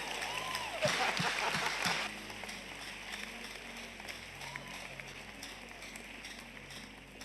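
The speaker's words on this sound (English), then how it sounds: "Clap well, whether you have been doing it or not." Audience applause at a relationship and courtship talk by a preacher, a dense burst of clapping for about two seconds that then thins into a softer, steady crowd murmur.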